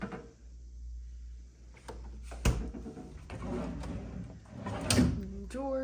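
Wooden drawers in a hotel room slide and thump shut a few times, with scraping and knocks at irregular intervals in a quiet room.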